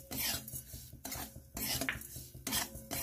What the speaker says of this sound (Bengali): নারকেল কুড়োটা দিয়ে ভালো করে নাড়বো